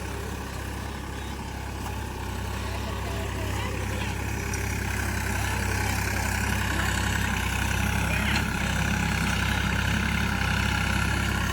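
A Sonalika 47 RX tractor pulls a cultivator in second gear across a dusty field freshly cleared of potatoes; its engine drones steadily and builds slightly in loudness, with no breaks.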